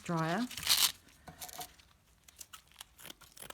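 Paper or tape strips being torn by hand for a sculpting craft kit, with a sharp rip near the start followed by softer crinkling and handling noises; a voice is heard briefly at the very beginning.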